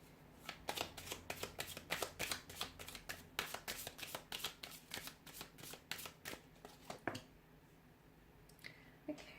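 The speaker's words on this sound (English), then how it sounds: "let's shuffle the cards and see" A deck of cards being riffled and shuffled up close, a fast run of crisp snapping flicks, then a few scattered taps as it settles.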